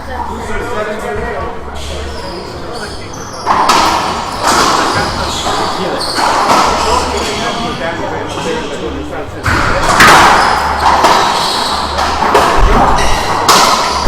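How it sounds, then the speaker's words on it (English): Racquetball shots from a men's singles world championship match, Puerto Rico versus Bolivia, as repeated sharp thuds and slams off the court walls, including a pinch shot, under steady commentary and crowd noise in a reverberant court. "what a great shot there from Roland. Beautiful pinch"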